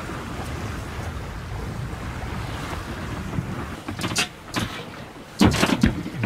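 A sailboat beating to windward under genoa and full main makes steady wind rush and water wash against the hull, with louder bursts of spray and gusts near the end and no voices.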